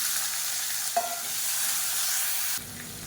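Small shallots and peeled garlic cloves sautéing in hot oil for a kulambu, a steady close sizzle with a brief clatter of stirring partway through, then the frying noise drops lower and softer near the end.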